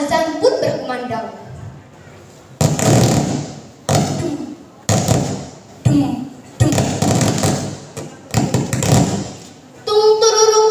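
A storyteller's voice imitates the beating of a bedug drum in a series of loud, rhythmic vocal bursts, close and solo, with a brief higher vocal flourish at the end.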